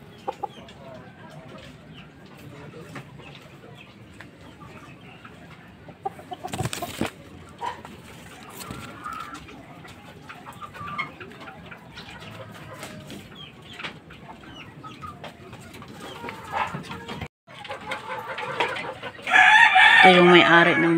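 Fighting roosters, gamecocks kept for cockfighting, sit around a quiet yard with scattered clucks and soft noises, then one crows loudly and close near the end.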